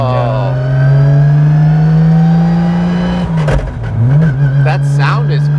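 A GReddy-built 1995 R33 GT-R engine holds a loud, steady high drone that dips and then rises again, heard close up with voices talking over it.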